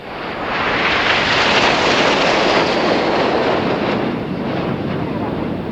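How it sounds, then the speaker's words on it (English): A 2010 RAF Marham display team of jets sweeps past in tight diamond formation through a hard 3G turn, a loud, steady broadband roar rising quickly and holding for several seconds at an airshow. "Now Kirsty's flying past us now in about a 3G bend in diamond formation."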